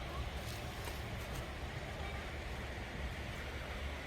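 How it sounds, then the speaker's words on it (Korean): Faint, steady surf from waves breaking on Hwajinpo beach in Goseong, Gangwon, after rain, heard as a continuous low wash from some distance with no distinct individual crashes. "저 파도 치는 것 봐"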